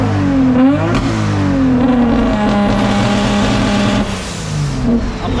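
A BMW drift car engine with an anti-lag system revs hard and continuously, loud and close, its pitch rising and falling through repeated throttle blips.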